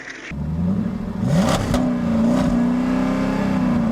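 An Anki Overdrive toy race car, in its Fast and Furious edition, driving around its track: a steady high whirring motor drone that swells and rises in pitch as it accelerates, continuous and close.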